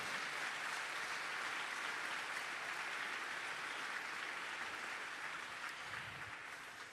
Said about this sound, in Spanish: Si querés aplaudir, aplaudí fuerte al Rey.